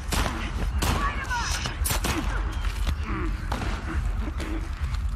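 Scattered gunfire and impacts from The Last of Us Part II ring out amid a busy, dense game soundscape, with a player speaking over the chaos.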